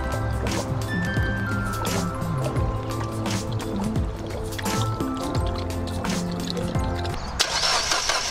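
A Mazda Miata engine with its intake removed cranks and catches, then runs roughly and sputters loudly before dying, close up and continuous throughout, with the sound changing sharply near the end.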